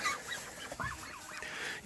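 A few ducks in a farm shelter on a bitterly cold snowy day give short honking quacks, close and fairly loud, in a brief irregular burst with no talking.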